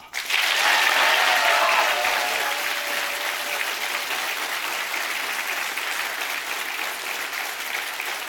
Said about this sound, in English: So with that, let's give a round of applause one more time for Mr. Gus Sorolla.